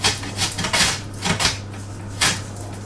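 Mandolin slicer cutting a white onion, a series of sharp scraping swipes spaced irregularly, fairly close and alone without talk.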